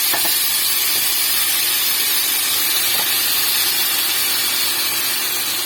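Marinated chicken sizzles in smoking-hot oil in a wok, a steady loud broadband hiss and crackle filling the whole stretch with no talk.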